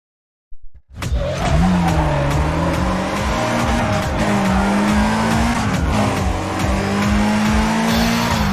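Volkswagen Golf racing in Need for Speed ProStreet: after a brief silence, a loud engine roars up and holds a strained, rising and falling drone, with tire squeal and skidding layered over it throughout.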